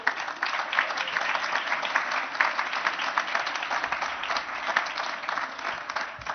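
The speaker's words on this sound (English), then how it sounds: "one more round of applause" An audience at a university scholarship gala applauds, producing dense, sustained clapping from a large crowd throughout.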